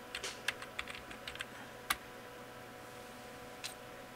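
Keys tapped on a computer keyboard while a password is entered during a Slackware Linux install on a 2005 computer: a few quick clicks early on, then sparse single taps and a louder final keystroke, nearby, with no talk.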